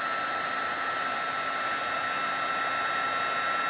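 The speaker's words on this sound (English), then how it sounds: "I'm going to heat these and melt that gold embossing powder" An embossing heat tool set on high blows a constant, even whirring hiss while melting gold embossing powder, steady and close with no breaks.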